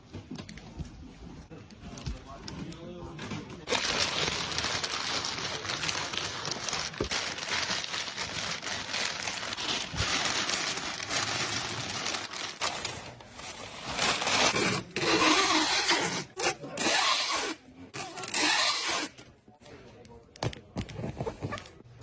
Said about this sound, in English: I'm going to put the memory card in its baggie so it doesn't get lost in the box.